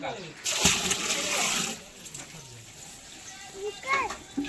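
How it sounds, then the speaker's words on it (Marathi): Water being filled outdoors during a family worship gathering with cooking nearby; splashing bursts early, then fainter sloshing beneath voices, including children, and birds. "पाणी देखील भरत आहे"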